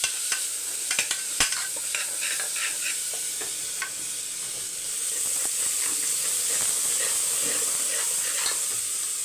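Small onions (shallots) sautéing in a pan give off a steady sizzle and hiss, broken by sharp clicks and scrapes from stirring. The frying grows louder and denser in the second half.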